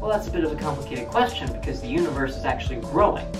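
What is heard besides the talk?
No distinct noise like a dog, phone or traffic.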